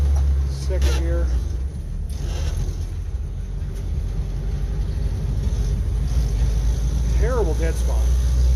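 An old, creaky Jeep pulls along in second gear, its engine a steady low rumble under the driver's voice, which talks over it with short pauses.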